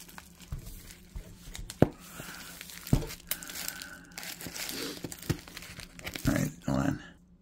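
Plastic bag packaging sealed with tape being torn and unwrapped, giving close crinkling and crackling with sharp tearing snaps and rustles throughout.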